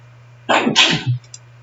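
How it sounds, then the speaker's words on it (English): A roommate sneezes once indoors, a sharp close burst with a quick inhale-and-release shape, set against a steady low electrical hum. "my roommate just sneezed"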